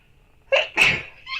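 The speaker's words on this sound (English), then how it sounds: "Sneezing. Sneezing." A person sneezes close up, one sharp sneeze with a quick intake before it and a softer trailing burst after, otherwise quiet.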